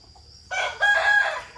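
A Burmese fighting rooster crows once, loud and close, a strained rising-then-falling call lasting about a second after a faint high tone.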